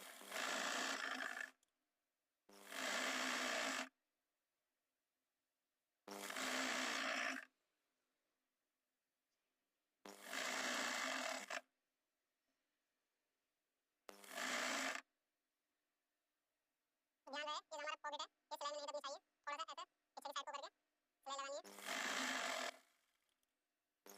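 Short bursts of machine stitching along a trouser seam, each running a second or two with silent pauses between, ending in quicker stop-start runs; close and clear with no talking.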